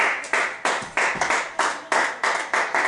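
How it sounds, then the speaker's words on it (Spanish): Church congregation at a convention clapping in unison, a loud rhythmic series of sharp group claps at a steady beat, close and without talk. "denle un fuerte aplauso."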